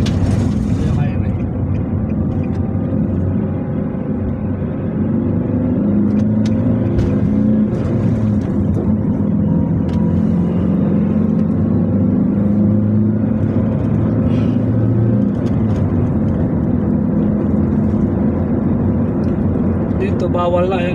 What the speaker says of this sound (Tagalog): Gilid lang siya ng highway mga kalibet.